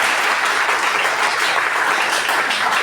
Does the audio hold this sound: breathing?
no